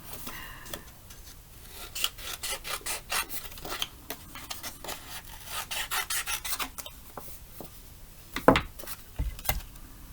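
Scissors cutting through a paper card for a handmade card craft, heard as a run of close rasping snips and rubbing strokes, with a sharper clack near the end.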